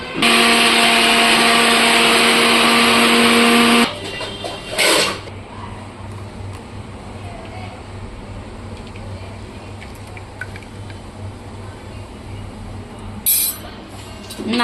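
A kitchen mixer grinder whirs loudly as it blends coconut to extract coconut milk, running steadily for about four seconds before stopping abruptly, followed by quieter clinks and room noise.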